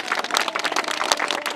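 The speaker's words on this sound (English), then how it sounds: "That's worth a round of applause." Applause from a civic audience at a San Francisco parks announcement, dense, steady clapping filling the space with a few sharper hand-claps standing out.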